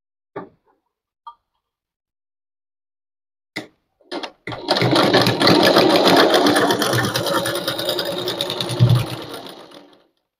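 A sewing machine stitches a blouse tassel in a steady, loud continuous whir lasting several seconds, preceded by a few brief clicks and taps, then slowing to a stop.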